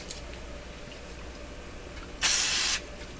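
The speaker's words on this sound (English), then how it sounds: "I'm going to hit this with some really horrid cleaner here." A short, sharp burst of cleaner spray hisses for about half a second onto a tube radio, over a quiet background with faint handling noises.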